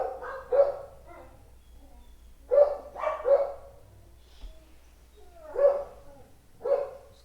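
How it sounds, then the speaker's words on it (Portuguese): Dogs barking at a distance, about six separate barks in loose pairs with quiet gaps between them, faint over a low hum. "Os cachorros."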